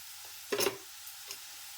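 Chopped bottle gourd gets stirred in a frying pan: a soft, close scrape-and-clatter of the spatula over a low, steady sizzle, with a second fainter stir a moment later.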